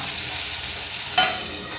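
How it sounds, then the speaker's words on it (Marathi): Curry leaves and tomatoes crackle in hot oil in a pan, a close, steady sizzle with one brief sharper spitting burst partway through. "कढीपत्ता घालू म्हणजे कढीपत्ता छान तडतडून जाईल"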